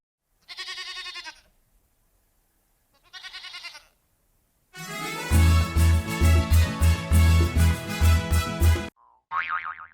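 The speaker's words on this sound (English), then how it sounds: "G for goat." Two bleating goat calls separated by silence, followed by a loud bouncy musical passage with a springy boing, then a short final bleat.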